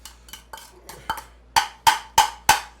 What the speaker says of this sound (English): we're going to whip in the sugar